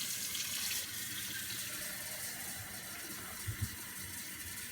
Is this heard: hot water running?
yes